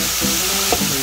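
Food sizzling in a frying pan while it is stirred with brown sugar and butter for a Chinese dish, giving a steady loud hiss with faint scraping stirs.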